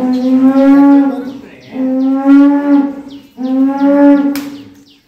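A cow at a dairy farm in Nilphamari, Bangladesh, gives three long, loud, close moos in a row, each a deep, steady bellow that trails off, with short pauses between them and no talking.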